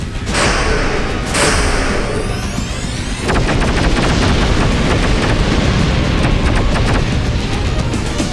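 Gunfire in the PlayStation 1 game Shockwave Assault: two sharp blasts ring out over a dense roaring battle bed, followed by a long rapid volley of shots, loud and continuous.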